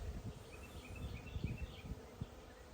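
Honeybee drones buzzing around an open beehive during an inspection, a low, wavering hum that swells and fades as individual bees pass close to the microphone.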